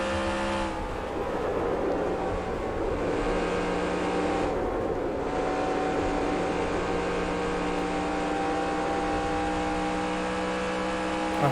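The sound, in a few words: race car accelerating in the video game NASCAR Racing 2003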